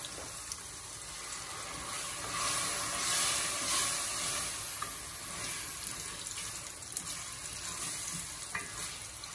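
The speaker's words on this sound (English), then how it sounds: "I'm going to put a little bit of warm water in this and cover it up" Warm water poured into a hot pan of frying eggs for egg bhuna sets off a loud, steady hiss and crackle that gradually settles, with no talking.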